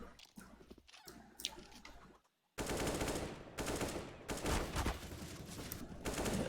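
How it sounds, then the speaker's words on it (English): Bursts of gunfire from a competitive GGPR vs. Windstorm GG video game match, loud rapid volleys over continuous game noise, with a brief drop to near-silence partway through. "Windstorm coming in a little bit faster than I thought, but Oki getting a nice headshot onto Bombers there"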